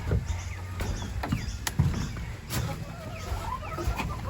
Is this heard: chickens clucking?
yes